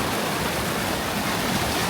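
Rushing creek water flows steadily near a washed-out, undercut road, a dense broadband wash with no pauses and no voices over it.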